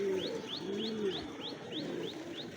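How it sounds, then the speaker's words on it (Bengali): Two sick pigeon chicks with pox coo softly and repeatedly, a low throaty warble returning in a steady rhythm beneath regular high chirps, close and fairly quiet. "এই যে দেখেন আপনারা পক্সে কি অবস্থা দুইটা কবুতরের বাচ্চারই"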